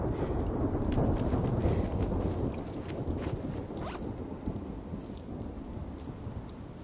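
Heavy rain pours steadily in The Last of Us Part II, with a deep rumble of thunder rolling underneath, loud and dense at first, then easing slightly, with no voices.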